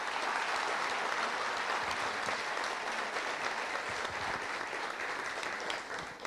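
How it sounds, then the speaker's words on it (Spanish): Steady audience applause fills a book-fair talk hall for the invited guests, dense and even at moderate distance, holding for several seconds before tapering slightly at the end. "Quiero que le regalemos un aplauso a nuestros invitados para comenzar."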